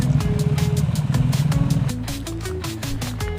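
Several motorcycles including a Honda CB1100 on a group ride through New York, with steady close engine drone and shifting revs, the pitch climbing as the bikes accelerate, loud and continuous.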